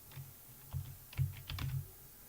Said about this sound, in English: start typing here